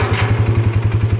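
Winch on a 2016 Polaris ATV lifting a snow plow, a loud, steady motorized whir with a fast rhythmic pulsing drone, close up and with no talking.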